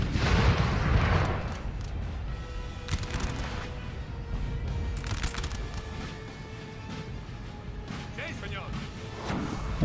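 Artillery cannons firing in a Napoleon: Total War battle on a Spanish mountain, with heavy booms and crashes layered over battle noise and ongoing talk.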